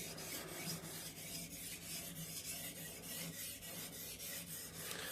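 A knife blade is drawn across a whetstone in steady, repeated rasping strokes, close and quiet, with an even back-and-forth rhythm.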